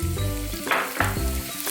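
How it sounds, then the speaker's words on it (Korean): Chopped kimchi stir-frying in bacon fat in a pan, a steady close sizzle broken by brief scraping stirs. "밥보다는 썰어놓은 김치를 먼저 볶아주셔야 돼요"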